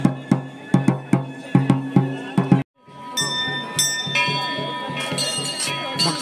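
A temple bell from around 1880 clangs in a quick, regular series of strikes at a crowded fair, then crowd noise and overlapping ringing follow, with people talking in the background.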